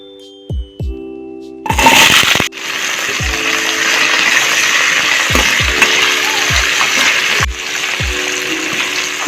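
Large pieces of unpeeled new potato drop into hot oil with a loud splash and burst of sizzling, then fry in a steady, close hiss while low thumps recur throughout.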